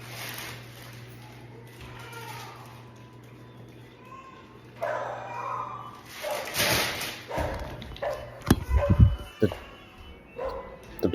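A dog barks and yips several times in the latter half, fairly near, preceded by quieter background sounds and a steady hum.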